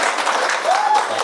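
Brief burst of dense clapping from a classroom of students during an economics lesson, steady and fairly loud, with a faint voice briefly audible through it.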